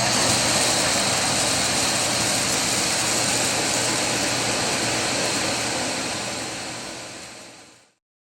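An Ecovacs T10 Plus self-emptying station sucks ice debris out of a robot vacuum's dustbin, a loud, steady, close-up suction roar that holds for about seven seconds and then cuts off abruptly.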